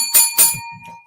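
A show host rings a bell, two bright, loud metallic dings in quick succession that ring on briefly, followed by faint murmuring.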